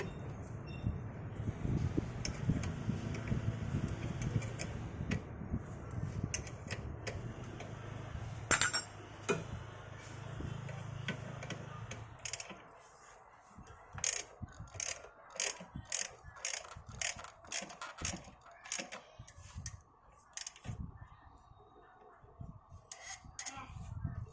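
Rapid ratcheting clicks from a ratchet wrench tightening bolts during a water pump replacement on a Toyota Avanza come in bursts, with metallic clinks and handling noise in between, close up and fairly quiet.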